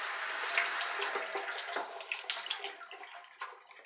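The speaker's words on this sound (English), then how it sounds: "Just gonna rinse the brush out a little bit" A badger shaving brush is rinsed under a running tap, giving a close, splashy stream of water that breaks up into uneven spatters over a few seconds.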